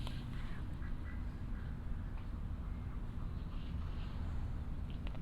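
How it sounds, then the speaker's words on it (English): Ducks quack now and then over a constant low background rumble, fairly close, with no talking. "Now I have two more ducks behind me drinking water"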